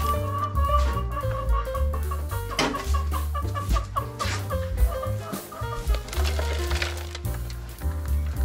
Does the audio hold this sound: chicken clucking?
yes